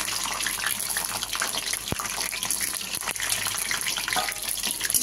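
Capsicum pieces frying in hot oil give a steady, close broadband sizzle and hiss, with a couple of sharp crackles.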